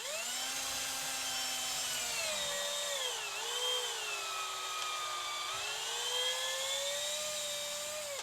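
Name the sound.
drilling into a resin model kit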